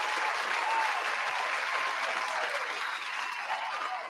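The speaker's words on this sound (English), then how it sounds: "Round of applause to you guys." Steady, dense applause from a crowd fills the whole stretch at an even level without any talking, holding its full roar before easing slightly at the end.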